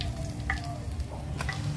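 Pork pieces for lechon kawali frying in hot oil, a steady close sizzle and crackle with a few brief scraping stirs, no talking.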